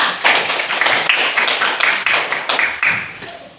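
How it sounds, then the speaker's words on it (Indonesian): Classroom hands clapping for a student, a loud, close flurry of many overlapping claps that stays dense and steady throughout. "tepuk tangan untuk Keisha dari kelompok A"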